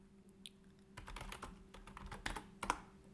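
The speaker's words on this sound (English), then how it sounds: "we'll type" Computer keyboard typing with a run of quick, irregular key clicks that grows busier midway, with a couple of sharper, louder strokes near the end. The clicks are close and there is no talking.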